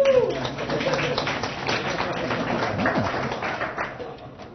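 Scattered audience clapping breaks out during a lecture, a moderate patter of hands with a voice speaking faintly underneath.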